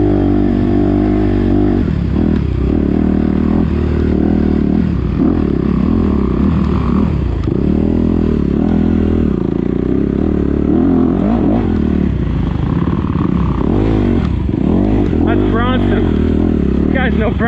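Dirt bike engine at a woods race, a loud continuous motor drone that rises and falls with revving, with clattering from the ride and a rider's voice now and then.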